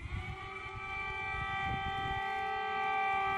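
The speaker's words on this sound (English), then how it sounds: "You asked me how we react to the siren." An air raid siren wails in a long, steady sustained tone that grows slightly louder, heard alone without talk.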